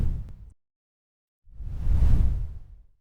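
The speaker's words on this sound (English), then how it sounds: "What you hear is a deep, unsettling, ghostly hum." The lowest note in the known universe, pitched up into a deep, ghostly hum: a brief low rumbling swell, a second of silence, then a longer, louder whooshing drone that rises and fades.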